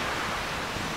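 Waves washing onto a beach in Kelantan, a steady broadband surf roar mixed with wind noise on the microphone, continuous and without voices.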